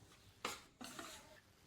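A spoon scrapes and swishes through thick mohanthal mixture in a kadhai in a few soft strokes, quiet and close with no talk.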